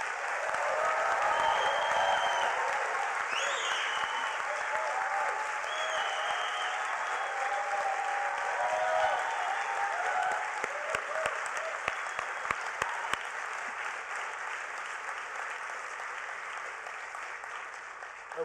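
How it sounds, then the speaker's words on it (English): A large audience at the 2019 Hult Prize finals and awards ceremony at the United Nations applauds the six finalists, a long, steady wash of clapping that holds at even strength and thins slightly toward the end. "I'd like you to give all 6 finalists a very warm, long round of applause and some encouragement."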